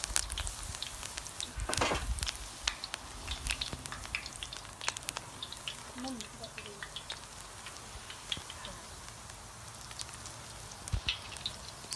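Wild garlic fritters fry in a pan over an outdoor campfire, a soft continuous crackle and sizzle with scattered pops, while people talk nearby.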